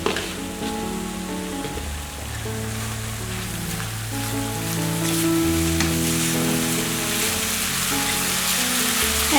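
Masala spices fry in a pan with a steady, close sizzle that continues throughout, while a musical backing plays alongside and no one speaks.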